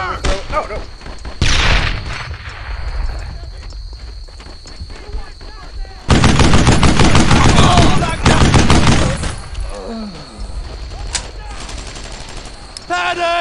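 Bursts of gunfire from the World War II shooter Brothers in Arms: Earned in Blood during a firefight, with loud volleys and rapid fire coming in waves under shouted squad commands and footstep thuds.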